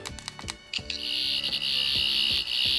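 A Thirteenth Doctor sonic screwdriver toy from Seven20 and Character Options in its pulsing mode, opening with a few sharp electronic bursts and then settling into a loud, steady high whine throbbing in regular pulses, heard up close with no voices.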